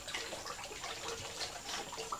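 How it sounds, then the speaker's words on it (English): Water from a hard-plumbed line runs steadily into a sugar water mixing tank, a soft, continuous splashing gush heard alone at low volume. "It's hard plumbed in, so to fill it, you simply turn the water on"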